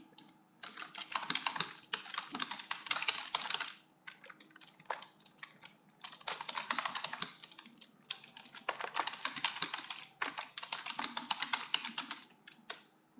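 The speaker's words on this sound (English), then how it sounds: "Let's go ahead and open Word and type my assignment." Someone types an assignment on a computer keyboard in several bursts of rapid, fairly quiet key clicks, with short pauses between the bursts. No voices are heard.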